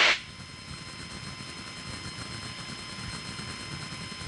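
A Piper Cherokee light aircraft drones in flight, a steady low engine rumble heard from inside the cabin that begins after a short sharp burst and continues evenly at moderate level.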